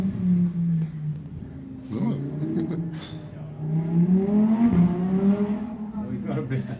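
A car engine revs hard like a race car somewhere in the background during a lawn bowls classic pairs semi-final, its tone rising and falling under steady nearby conversation.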